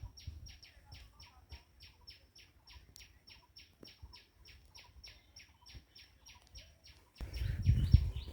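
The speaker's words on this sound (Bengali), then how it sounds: "পাখির ডাক শোনা যাচ্ছে।" Small birds chirp in a fast, steady series of bright, sharp calls around a pond amid trees, close and clear, before a burst of louder rumbling noise takes over near the end.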